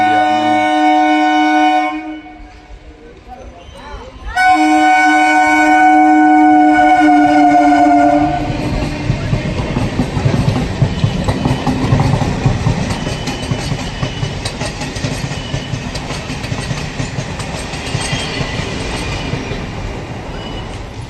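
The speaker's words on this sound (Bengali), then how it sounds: "ছেড়ে দিয়েছে ট্রেন ছেড়ে চলাচল শুরু হয়ে গেছে" An Eastern Railway passenger train bound for Sealdah sounds a long horn blast, then pulls away and picks up speed, its wheels building into a loud, rhythmic clickety-clack rumble close by.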